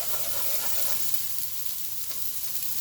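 Vegetables stir-frying in a pan give a close, steady sizzle and crackle for a few seconds, with no voices.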